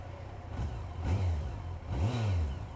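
A 2001 Yamaha FJR 1300 motorcycle engine with a meaty tone, heard in short rising and falling revs, two or three quick throttle blips over a steady rumble.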